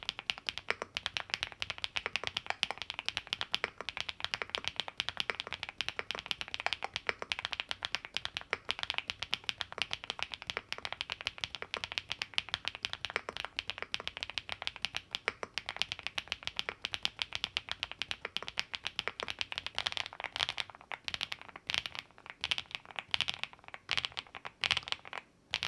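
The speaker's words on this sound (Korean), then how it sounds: "릭스의 RS8 타건 소리 바로 들려드릴게요." Fast, continuous typing on a Leeks RS8 plastic-housed mechanical keyboard with pink cheese switches produces a close, crisp stream of key clacks in rapid irregular rhythm, with some louder isolated strikes toward the end.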